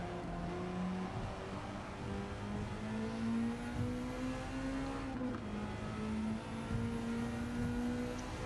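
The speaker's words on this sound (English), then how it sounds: "It didn't seem to like revving all the way in third gear then." Alfa Romeo 4C engine in Gran Turismo 7 held high in third gear, a steady droning whine with a pitch that climbs slowly, dips briefly, then holds, continuous and moderately loud throughout.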